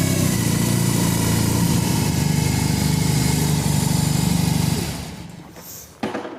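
A BMW R18 Classic motorcycle's boxer engine runs loud and close, a steady throbbing drone that fades away after about five seconds, followed by a short sharp knock.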